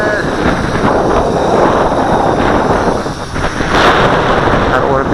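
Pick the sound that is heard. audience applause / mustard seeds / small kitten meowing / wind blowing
wind blowing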